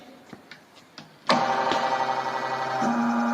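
A hardness testing machine in a strength-of-materials lab starts up with a sudden electrical hum and whirr that holds steady, shifting pitch slightly near the end, after a few faint clicks.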